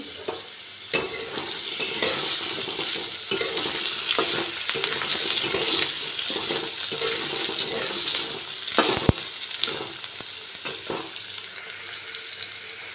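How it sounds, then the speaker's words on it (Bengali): Potatoes fry in oil in a pan for a pumpkin curry, with a steady close sizzle and occasional scraping stirs and clinks throughout. "আলুটা আগে একটু ভেজে নিচ্ছি।"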